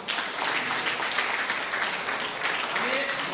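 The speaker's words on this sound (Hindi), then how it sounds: "तालियां।" A crowd applauding steadily throughout at a Birsa Munda birth anniversary event in Ranchi, a dense continuous patter of clapping with faint voices beneath.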